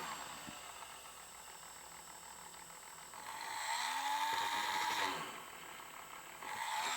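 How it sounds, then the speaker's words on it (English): A small motorised drill whines steadily as it bores holes in the cast chassis of a DJH G5 model locomotive kit, its pitch shifting and growing louder midway before easing back. "so just drill them"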